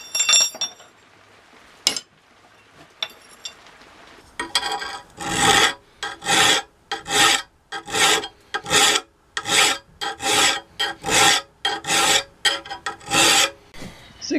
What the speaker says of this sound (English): before cutting them out and grinding them to shape